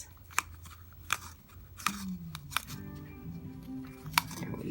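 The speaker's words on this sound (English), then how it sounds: "So I'm going to tape that up" Adhesive tape pulled and pressed along the seam of a rolled cone, with close, sharp tearing clicks and a brief stretching squeal as the tape comes off the roll, no talking.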